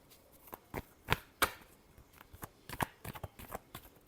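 Tarot cards are shuffled in quick, irregular bursts of crisp riffling snaps, close and alone with no talk.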